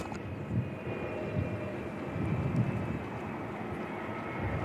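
A Jetstar airliner bound for Auckland at Christchurch Airport gives off a steady, moderately distant engine rumble with a faint whine above it, swelling slightly partway through, and no one talking.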